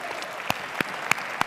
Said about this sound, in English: Let's give Joseph some applause.